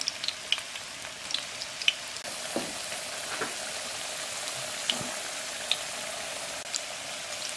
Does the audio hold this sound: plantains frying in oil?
yes